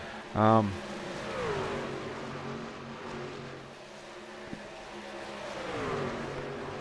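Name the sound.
racing trucks on track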